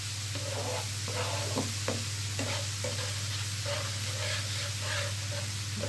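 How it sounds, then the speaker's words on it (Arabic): Minced garlic frying in a pan with steady oily sizzle throughout, while a utensil stirs it in regular scraping strokes, close and moderately loud, with a constant low hum beneath. "بقعد اقلب كده لغايه ما يبقى ايه لونه اصفر"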